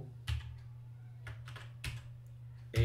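Keys on a computer keyboard are struck in a few sparse, close clicks and short bursts, separated by quiet gaps over a faint steady hum.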